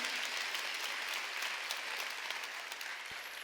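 A church congregation claps during a Wednesday worship service, a continuous, fairly distant wash of applause that holds steady and fades slightly near the end.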